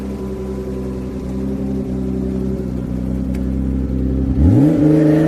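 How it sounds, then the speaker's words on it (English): A BMW E36 drift car sits at a steady, rumbling idle on track at a British Drift Championships qualifying round, then gives a sharp rev near the end as the front tyres are scrubbed; no talk. "Just scrubbing off the front tyres now as he lines up for his qualifying run."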